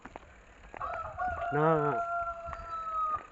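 Someone's rooster crowing at Campuestuhan inland resort, one long, loud, close cock-a-doodle-doo lasting over two seconds, with a short spoken word just before it.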